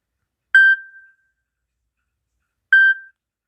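A smartphone system ringtone is previewed as two short, clear electronic chime tones about two seconds apart, each fading quickly into silence.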